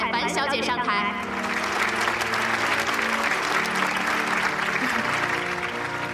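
A banquet-hall audience at a celebration for a newly named product gives warm applause, dense steady clapping that fills the room from start to finish and starts just as a voice finishes speaking.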